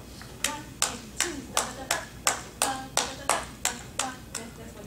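Hands clap a steady rhythm of about eleven sharp, evenly spaced claps in a piano masterclass setting, close and fairly loud, with no talking over them.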